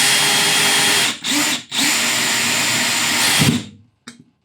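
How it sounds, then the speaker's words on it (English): An electric drill runs loud and steady boring holes, briefly dipping twice as the trigger eases, then winds down and stops, followed by a short faint burst. "I'm going to keep going and drill up the other side."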